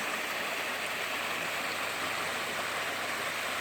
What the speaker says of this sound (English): Pretty nice little waterfall.